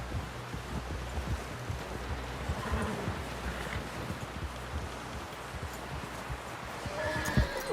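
A horse in the Red Dead Redemption video game whinnies while its hooves clop steadily, with faint rustling and wind in the background and a louder thump near the end.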